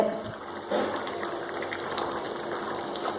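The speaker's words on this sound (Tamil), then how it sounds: "குழம்பு நல்லா கொதிச்சுட்டு" A pot of turkey berry (sundakkai) curry bubbles and simmers close by, a steady soft gurgling with small pops rising from the liquid.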